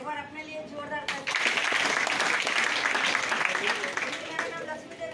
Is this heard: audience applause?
yes